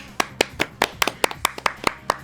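A single person claps hands in a steady, brisk rhythm, a dozen or so sharp claps, close by and alone.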